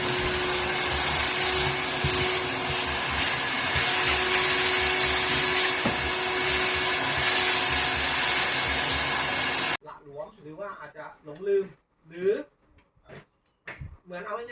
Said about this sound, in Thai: ก็จะดูดฝุ่นทำความสะอาดภายในรถให้ค่ะ